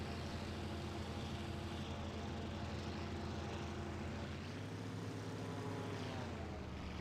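Engine of an A6M5 Zero fighter at takeoff in the flight sim IL-2 Sturmovik, a steady propeller drone that holds at full power and then shifts pitch slightly partway through, constant and close.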